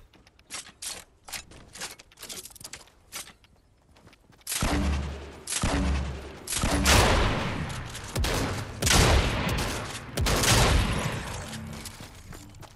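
Grenade launcher in Fortnite firing in bursts of loud, punchy blasts and explosions, rapid thumps dense and close after a quieter stretch of lighter clicks and shots.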